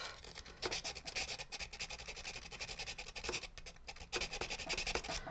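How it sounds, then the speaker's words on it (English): Sandpaper rubbing on a small carved wooden model sniper rifle, working into tight little spaces, with steady close scratchy strokes and a few stronger bursts, no talking. "Oh, it's so hard to sand little tiny spaces."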